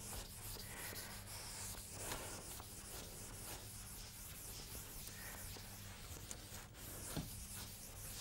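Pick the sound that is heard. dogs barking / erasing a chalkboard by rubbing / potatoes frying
erasing a chalkboard by rubbing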